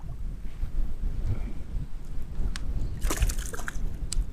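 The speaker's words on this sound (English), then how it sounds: "There's that wind." Wind on a lake during bass fishing from a boat buffets the microphone with a steady low rumble, with scattered light knocks and a few brief crackling bursts near the end.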